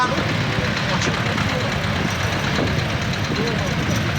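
A Zetor 25K tractor engine runs steadily at a low rumbling idle, loud and close, with a voice speaking over it, at an old tractor and farm machinery festival.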